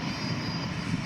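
Airbus A350 taking off from Lisbon Airport, a dense, steady jet engine roar with a broad rushing hiss, loud and continuous over a brief stretch.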